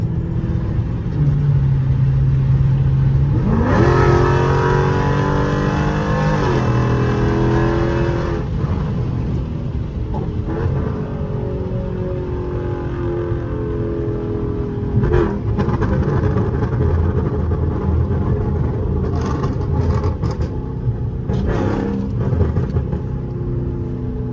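A tuned Dodge Charger Scat Pack 392 engine revs and accelerates at night, rising and falling in pitch with gear changes, steady road rumble underneath and a few sharper burbling bursts later on.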